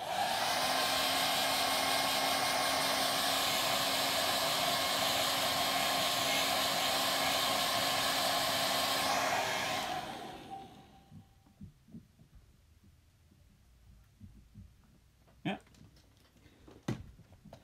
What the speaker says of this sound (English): So then we have our handy hairdryer.